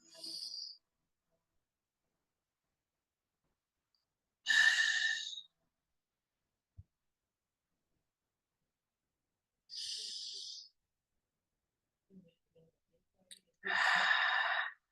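Four separate breaths in a guided breathwork session, short airy inhales and exhales spaced by long silences, fairly close and soft, with a small tap in one of the gaps.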